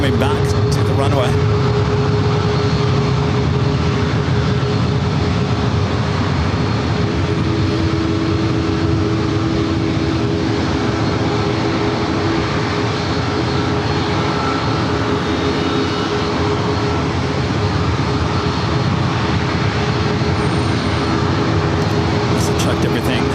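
Jet airliner taking off at San Diego airport, a loud sustained engine roar filling the whole stretch, with radio voices talking over it.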